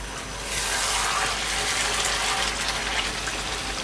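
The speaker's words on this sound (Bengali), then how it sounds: "আর দিচ্ছি গোলাপ জল বা রোজ ওয়াটার।" Rose water is poured into a pot of shahi chicken roast in a short, steady gushing stream lasting about three seconds, close and alone, with no talk.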